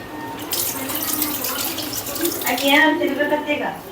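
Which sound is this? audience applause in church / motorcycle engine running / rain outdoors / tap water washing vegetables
tap water washing vegetables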